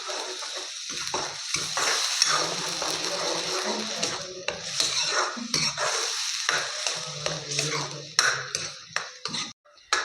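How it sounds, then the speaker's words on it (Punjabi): Onion and tomato paste roasting in a pan for a pea curry, with steady scraping, stirring and frying crackle close by and a few clatters of the spoon against the pan. "2-3 ਮਿੰਟ ਵਾਸਤੇ ਪਿਆਜ਼ ਟਮਾਟਰ ਦੇ ਪੇਸਟ ਨੂੰ ਆਪਾਂ ਭੁੰਨ ਲਿਆਗਾ"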